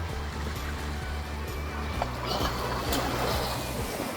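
Ocean waves wash steadily around a boat off Nunavut in Arctic Canada, a continuous close rush of water with a low rhythmic engine-like throb underneath and occasional splashes.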